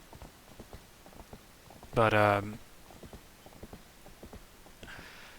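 Horse hooves clip-clop at a steady, even trot in Zelda: Twilight Princess HD, moderately loud and continuous, with a brief voice and a louder burst partway through.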